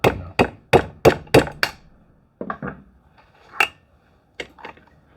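Sharp metallic taps during piston assembly on a Stihl MS 311 chainsaw, a quick run of five close strikes followed by a few scattered, softer knocks with pauses between.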